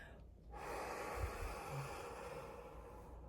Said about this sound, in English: So I'm breathing in that green through my nose